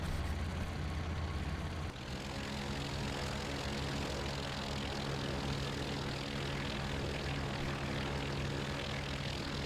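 A propeller fighter's engine roars at full power on takeoff in the IL-2 1946 flight game, loud and continuous, with a brief shift after about two seconds into a steady droning tone, no talking.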